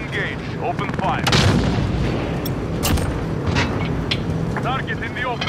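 Call of Duty Modern Warfare gunship combat: booming explosions and bursts of gunfire crack out repeatedly at close range amid a rumbling battle bed, with voices talking over the action.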